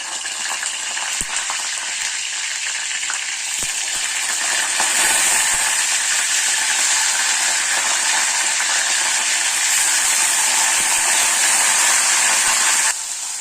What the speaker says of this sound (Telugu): ఆయిల్ వేడైపోయింది. ఇప్పుడు మనం కట్ చేసి పెట్టుకున్న వంకాయలు ఇందులో వేద్దాము